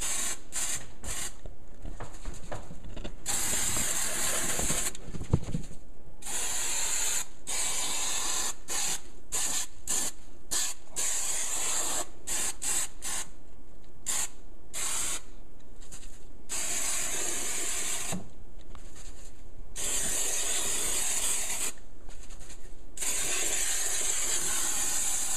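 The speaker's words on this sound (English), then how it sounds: "if you're worried about glue getting sprayed in your house or whatever" Spray adhesive hisses from an aerosol can during a home installation, in a long series of loud bursts broken by short pauses, close by with no talking.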